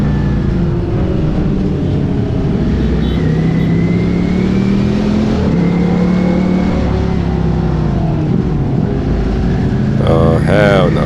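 Ducati Panigale V4S motorcycle engine pulling hard through a London street, a loud continuous drone with rising pitch sweeps as it accelerates, a voice speaking briefly near the end.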